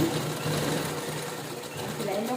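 A sewing machine hums steadily while stitching fabric, close and even throughout, with a voice talking over it.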